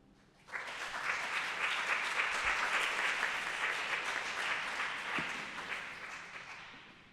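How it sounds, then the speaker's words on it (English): An audience bursts into steady applause after an academic presentation, a dense even wash of many hands clapping that holds for several seconds, heard from a distance. "you get an applause from the audience"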